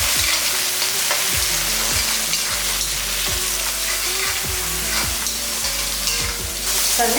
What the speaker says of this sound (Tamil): ஒரு தக்காளி வதக்கிறதுக்கு போட்டுக்கோங்க.